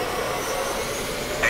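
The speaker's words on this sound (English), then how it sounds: "Turbines started." Turbine engines spool up as a steady, loud broadband roar with a faint rising whine near the end, while talk carries on over it.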